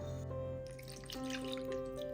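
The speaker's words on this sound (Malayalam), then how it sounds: "ഇനി ഇത് വേവിച്ചെടുക്കുന്നതിന് ആവശ്യമായ വെള്ളം ഒഴിച്ചു കൊടുക്കാം" Water poured into a cooking pot for a quick breakfast dish makes a soft, continuous, close trickle that stays quiet and steady throughout, with no talking.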